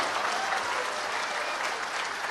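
A crowd applauds steadily, dense clapping at an even, fairly loud level throughout.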